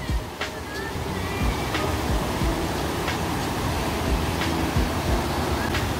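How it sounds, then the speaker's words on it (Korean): Steady rushing water roars continuously from a nearby waterfall in Baegun Valley, Pocheon, Korea, after rain, with a few faint voices and clicks over the constant wash. "여기 오, 폭포수네요 폭포수."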